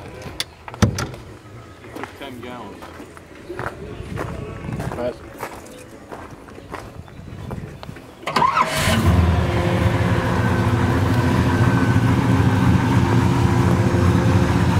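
A 1956 Chevrolet 210 resto-mod's lumpy V8 cranks and fires up about eight seconds in after some clicks and rustling, then settles into a loud, steady, rumbling idle; someone speaks briefly beforehand.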